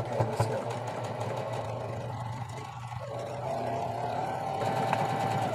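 A sewing machine stitches a shortened t-shirt sleeve seam with a steady, continuous mechanical whir, fairly faint and close, running throughout with a slight change partway through.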